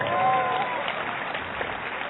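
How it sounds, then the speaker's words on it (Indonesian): Church congregation applauds the cameraman, a dense, steady wash of clapping from a crowd that fills the whole short stretch at a fairly loud level. "kita beri tepuk tangan untuk kameramen kita lah saudara"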